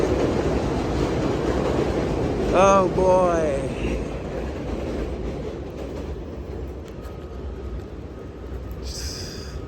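A train rumbles past steadily at close range, a low continuous roar with brief squeals; someone speaks briefly over it.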